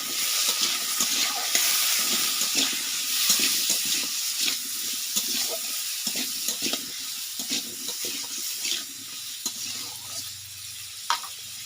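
Radish sizzling as it fries in a pan, steady crackling hiss with occasional stirring scrapes and clicks, fairly quiet and without talk.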